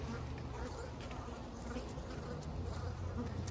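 Honey bees in a winter hive give off a continuous low buzzing drone, close and steady throughout, with faint handling sounds on top.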